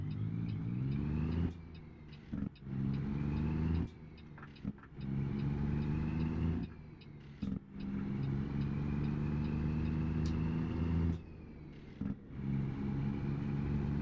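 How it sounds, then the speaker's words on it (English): A Kenworth E880 truck engine drones steadily in a truck driving video game, a low continuous hum with brief dips and cut-outs every few seconds. "My engine sounds are not what they're supposed to be."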